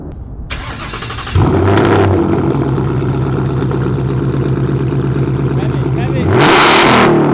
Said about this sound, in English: Give it some revs too,